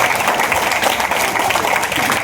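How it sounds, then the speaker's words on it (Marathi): Audience applause for the child actors of a school-themed play staged at a Navratri festival event in Rahuri Factory, a steady dense clapping wash filling the whole span at even loudness. "एकदा जोरात टाळ्या वाजवायला पाहिजे माझ्या कलाकारांसाठी"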